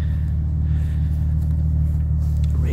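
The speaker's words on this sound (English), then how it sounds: "we've just got a little rumble of the exhaust at the back." Deep, steady idle rumble from the exhaust of a 2006 Audi A4 3.2 FSI S-Line Quattro, a close, even low drone with no revving across the short stretch.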